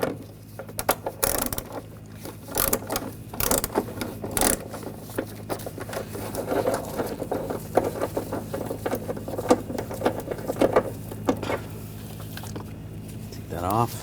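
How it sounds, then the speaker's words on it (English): A 13mm socket wrench loosening the battery hold-down nut on a 2004-2012 Chevrolet Colorado, heard as rapid ratcheting clicks in short bursts with tool taps over a low steady hum. "Use a 13mm socket. Take this nut off."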